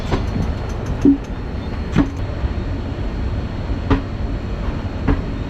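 The 12311 Netaji Express rolls into Kalka station with a steady rumble and rhythmic wheel clacks over rail joints at about one-second intervals, loud and close.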